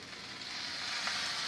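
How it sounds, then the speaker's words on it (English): Ham fried rice sizzles steadily in a hot pan, a dense crackling hiss that builds slightly louder toward the end, with no voices. "And hear it sizzle."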